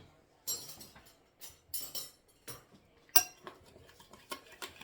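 Worcestershire sauce, brown sugar and ketchup being mixed for a topping, giving scattered light clinks and scrapes of a utensil against a bowl, with one sharper tap partway through and no talking.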